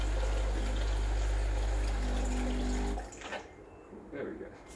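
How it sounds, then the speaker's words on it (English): Water is poured into the tank of a BES870 Barista Express espresso machine, a loud steady rushing for about three seconds before cutting off to quieter handling noises. "Just needed to add a little bit of water."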